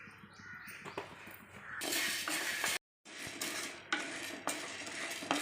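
Chana dal fries in a little oil in a pan while being stirred, making close scraping and rattling strokes with a short silent break midway.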